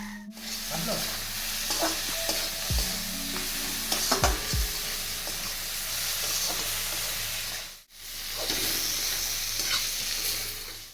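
Spices with kitchen king masala, Kashmiri chili powder and salt frying and being stirred in a pan: a dense close sizzle under repeated scraping spatula strokes, broken by a momentary gap partway through, with no speech.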